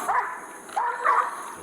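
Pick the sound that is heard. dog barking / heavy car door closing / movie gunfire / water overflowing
dog barking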